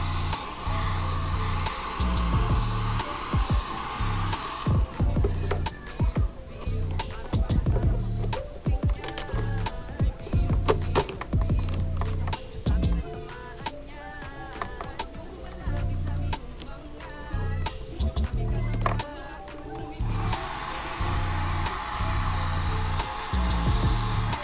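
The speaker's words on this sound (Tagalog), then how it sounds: "Blower natin ng paunti-unti ang parte na ating babanatan." A heat blower warming vinyl wrap roars steadily at the start and again near the end, with handling clatter and tapping in the quieter stretch between.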